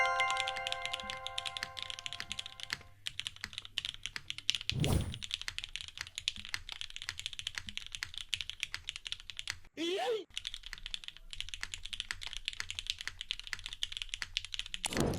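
A Neo80 mechanical keyboard clatters under steady typing: rapid, closely spaced keystroke clicks and thocks come up close at a moderate level, with short pauses between bursts of keys.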